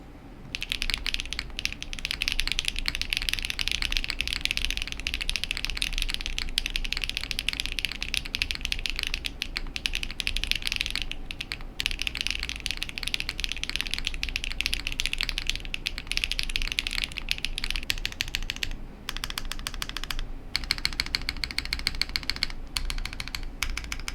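Fast, steady typing on a Paper80 TKL mechanical keyboard fitted with HMX Macchiato switches on a PC plate: a dense, close stream of crisp keystrokes continues throughout with only brief pauses and no voices.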